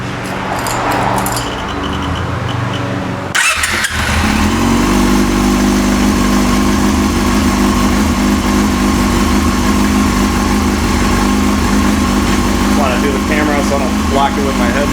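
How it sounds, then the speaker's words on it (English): A Yamaha R6 motorcycle engine cranks and fires up during a carburetor sync, then settles into a loud steady close idle after about three seconds, with brief talk under it. "So I'm gonna fire up the bike and get this synced up."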